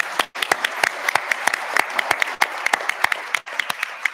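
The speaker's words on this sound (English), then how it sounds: "Let's first give it a round of applause, if we would, please." Audience applause at a St. Pete City Council primary candidate forum: a dense burst of many hands clapping, fairly close and loud, carrying on for several seconds with brief dips and only faint voices underneath.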